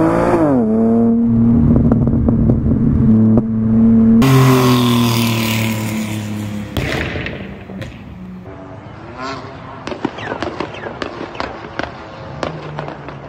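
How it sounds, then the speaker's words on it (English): A BMW N52 inline-six with a burble and crackle exhaust tune revs loudly with rising and falling tones, then drops back as a rapid series of sharp pops and crackles sounds on the overrun, close and loud. "We've got the first option, which is burble, crackle, and flames."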